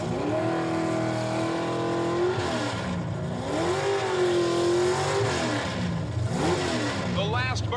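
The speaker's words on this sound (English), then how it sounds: "The last burnouts as they move to the starting line." Drag racing cars at the 1984 Winston World Finals in Pomona do their last burnouts before the starting line, a loud, continuous engine roar rising and falling in repeated revving swells with a tire squeal near the end.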